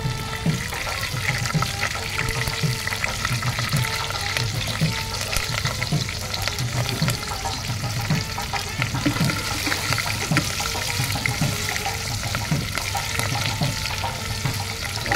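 Green chilies and curry leaves frying in hot oil for a Tamil prawn curry, producing a steady, dense crackling sizzle with faint stirring taps underneath throughout.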